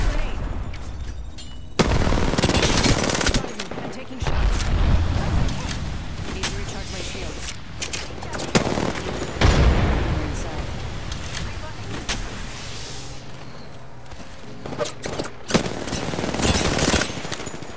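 Bursts of gunfire fly during a competitive multiplayer shooter match, with rapid automatic volleys and single shots mixed with explosions and bangs, loud and dense for the whole stretch with brief lulls, sometimes under a player's talk.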